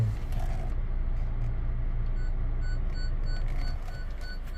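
Faint, regular electronic beeps from a front parking sensor repeat at a steady pace over a constant low road rumble inside a moving 2018 Honda Civic.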